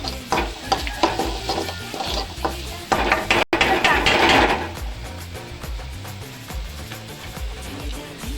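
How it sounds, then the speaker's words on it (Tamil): Onions and pasta ingredients frying in a pan, a steady sizzle broken by the scrape and clatter of stirring, loud and close, with background music running underneath. "நான் சொன்ன இன்க்ரீடியன்ட் எல்லாமே கொஞ்சம் நல்லா ஃப்ரை ஆகும்"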